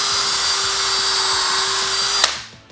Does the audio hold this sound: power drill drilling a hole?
yes